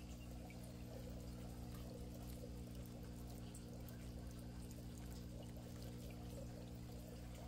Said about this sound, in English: But what you hear is a running water.